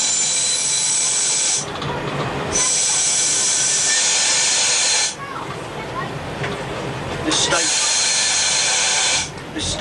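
A train approaches Battlesbridge station on the line toward Wickford, giving a loud, steady rushing rumble with hiss that briefly dips and returns a few times.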